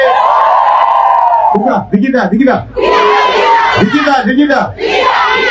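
Loud crowd cheering and shouting at a Kikuyu gathering, with rowdy massed voices and chant-like yells rising and falling in waves, close and dense, broken by short pauses.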